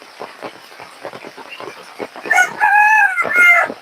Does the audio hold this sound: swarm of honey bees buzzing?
no